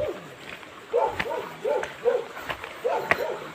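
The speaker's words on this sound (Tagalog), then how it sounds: "Ayan, may aso dito." A dog yips and barks in short bursts, moderately distant, against quiet outdoor background noise.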